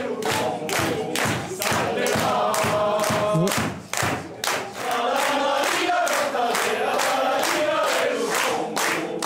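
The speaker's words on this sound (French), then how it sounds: "il y a des applaudissements dans cette permanence," Loud, sustained applause and cheering from a crowd at Corsica Libera headquarters on the night of the first round of the 2021 Corsican territorial election, with a steady clapping rhythm throughout and a brief spoken word partway through.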